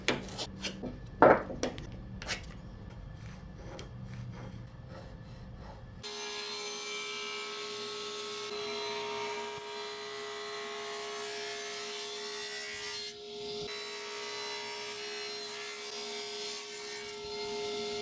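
A handsaw cuts a block of wood from an old crate in quick rasping strokes up close, then steady rubbing, filing-like sawing continues with an even tone and a brief pause near the end.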